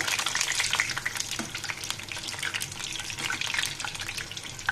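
Pitha cakes deep-frying in oil, a dense crackling bubble with sharp pops and spits, close and steady for a few seconds without voices.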